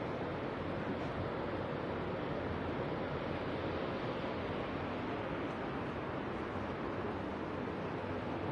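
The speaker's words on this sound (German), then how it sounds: "Das sind die Wellen, die man bis hier oben hört." Stormy sea waves crashing below, heard from up a hill near a quiet residential settlement, a distant, constant roaring surf that stays faint and unbroken, with wind mixed in.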